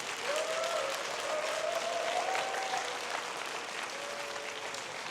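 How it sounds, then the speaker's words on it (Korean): Congregation applauding at a church youth winter retreat evening service, sustained dense clapping throughout with a faint voice calling over it. "박수 한번 치겠습니다"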